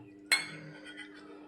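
One sharp metallic clink of a steel bowl against a cooking pot while water is measured out for rice snacks, close but quiet, followed by a faint ringing tail.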